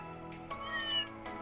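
Cats meow in Trails through Daybreak 2, a couple of short, clear, close meows in quick succession.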